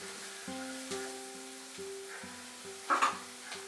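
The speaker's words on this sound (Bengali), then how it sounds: "ধনেপাতাটা দিয়েও ভালো করে মিশিয়ে নেব।" Pav bhaji with fresh coriander is stirred in a pan up close: a run of scraping spatula strokes over a soft, constant sizzle, ending in a brief louder clatter.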